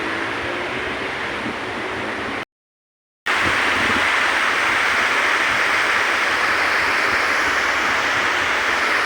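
A river flowing at a fishing spot, a steady broadband rush of water close by that cuts out for a moment and then resumes, with no voices.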